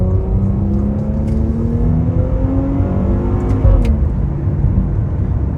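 Maserati F-Tributo with a roughly 480-horsepower engine and eight-speed ZF transmission revving loudly and close, its pitch sweeping up and down through gear changes with no talk over it.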